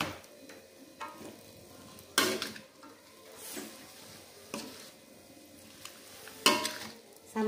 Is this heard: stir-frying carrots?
yes